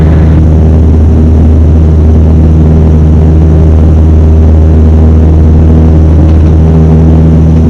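A small propeller aircraft engine roars steadily at full power during a solo takeoff, a loud, constant drone with strong low harmonics heard from inside the cockpit.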